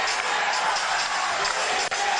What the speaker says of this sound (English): Here comes the chant